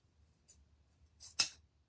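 A pair of scissors snips through ribbon once, a quick crisp cut after a few small rustles, close and quiet in an otherwise silent room.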